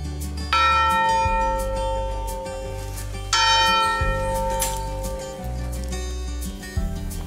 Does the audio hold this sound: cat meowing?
no